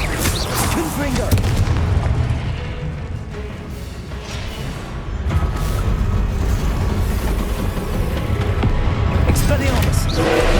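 A Confringo blasting spell explodes during Hogwarts Legacy combat, with loud booming impacts over a dense, continuous rumble of game effects and character voices.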